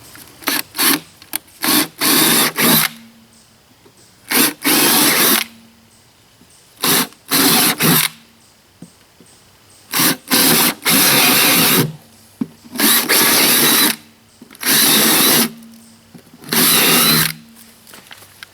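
A power drill runs in repeated loud bursts, each a few seconds long with short pauses between, whining as it bores through metal close by.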